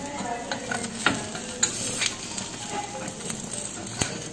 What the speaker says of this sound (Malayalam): ഒന്ന് വട്ടത്തിലിങ്ങനെ പതുക്കെ ഇതൊന്ന് ഇളക്കി കൊടുക്കണം